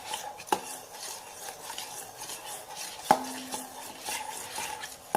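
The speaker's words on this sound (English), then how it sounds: "now mix it with the spoon" A spoon stirs a foamy glue slime mixture in a bowl with soft, wet churning, broken by three sharp clinks of the spoon against the container's rim, up close and without speech.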